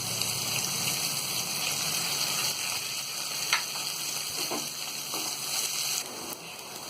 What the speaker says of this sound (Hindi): अब इसी में हम ये प्याज डाल देंगे और प्याज को हम गोल्डन ब्राउन होने तक तलेंगे।